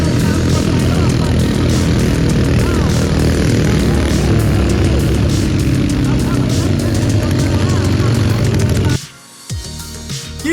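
Rice tractors roar at full throttle during a drag race, a loud, dense engine drone up close that cuts off abruptly near the end, leaving quieter rumbling.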